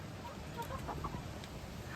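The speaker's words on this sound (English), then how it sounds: "But look at that rooster." Soft chicken clucks and low murmuring calls from a rooster, fairly close, over a steady background hum with a few brief higher notes.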